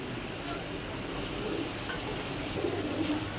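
Pigeons coo softly in the background amid a low, steady hum of surroundings.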